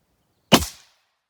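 A single sharp crack from an Airforce Texan .257 air rifle, loud and close, with a brief decaying tail after the report and silence on either side.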